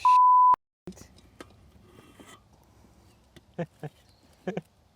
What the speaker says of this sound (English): If you heard a beep then, it's because I did swear